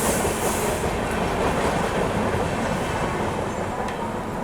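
Ferozepur–CSMT Punjab Mail express train rushing past at close range, a dense, steady roar of rolling wagons with rhythmic clickety-clack of wheels over rail joints, loud and continuous throughout with no voices.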